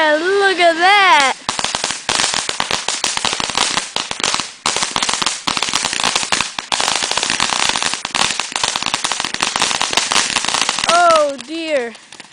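Birthday fireworks going off nearby in a dense, loud barrage of crackling pops and bangs that continues for about ten seconds, with whistling rockets rising at the start and end.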